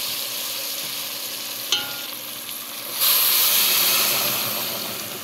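Steady hissing bubble of water boiling in a pot while cooking kabsa with chicken and vegetables, with a small clink partway through and the hiss swelling louder for the last couple of seconds.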